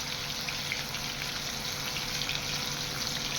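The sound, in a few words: rohu fish frying in a pan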